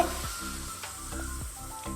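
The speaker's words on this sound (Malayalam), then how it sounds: "ഇമ്മച്ചി ഇവിടെ പപ്പടം പൊരിക്കുന്നുണ്ട്" Papadam fries in oil, sizzling quietly and steadily, with a low humming tone running underneath.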